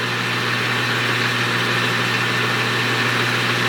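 A small homemade steam engine runs steadily at about 800 RPM, giving off a loud, even mechanical hum and hiss with no change in pace and no voices.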